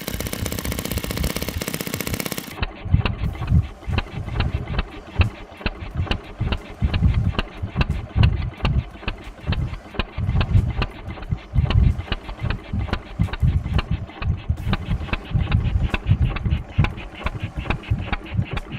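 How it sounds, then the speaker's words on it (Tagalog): A small four-stroke twin-cylinder mini engine runs at a steady idle close to the microphone, putting out a rapid, uneven putter of firing pulses after a brief burst of broadband noise at the start. "napaandar na yung Mini B twin engine 4-stroke"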